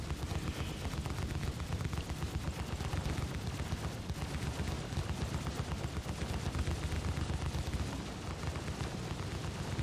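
Rapid, continuous gunfire from the rear turret of a crewed Hammerhead ship in Star Citizen hammers on steadily for the whole stretch, close and dense, with no talk.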